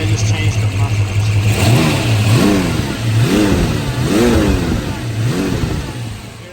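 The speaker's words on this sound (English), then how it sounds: "Hear that Paxton pulling that air." A supercharged 289 HiPo V8 in a 1967 Shelby GT350 revs repeatedly, rising and falling about four times in a steady rhythm, loud and close, with a high Paxton supercharger whine riding each rev.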